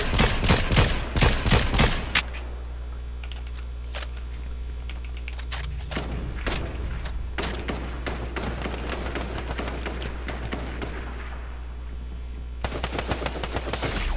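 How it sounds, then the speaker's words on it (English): Revolver gunfire rattles through a Fortnite match: a dense burst of sharp shots at the start, then scattered loud cracks and another cluster near the end, with quieter game ambience between them. "Ah, yes, a revolver."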